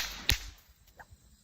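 A bullwhip cracks once, loud and sharp close by, then faint rustling and a small soft sound trail after it.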